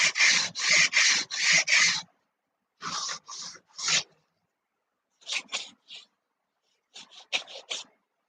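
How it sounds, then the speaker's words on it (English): Coarse sandpaper rasps back and forth against a tapering wooden trailing edge on a model Caudron aircraft tail in quick strokes, a fast burst of five followed by shorter groups of three and four, close and clear. "I need to do a rough sanding on this trailing edge because it tapers down to nothing."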